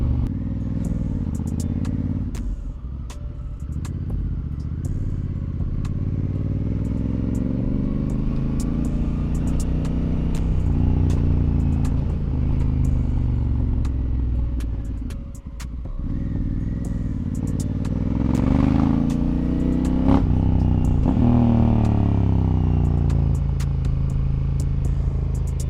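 Honda Africa Twin motorcycle climbing uphill, its engine droning steadily with pitch rising and falling as the revs change, plus occasional clatter, loud and continuous with no talk.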